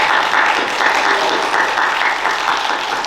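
An audience at the Belford V. Lawson Oratorical Contest applauds steadily, a dense, even wash of many hands clapping close by for the full few seconds.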